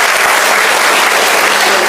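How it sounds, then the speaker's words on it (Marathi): A crowd at a public function claps hard for the dignitaries seated on stage, a sustained, even burst of applause heard up close with no talking. "विचार मंचावर बसलेले सर्व सन्मान्य मान्यवर त्यांच्यासाठी एकदा जोरदार टाळ्या होत्या."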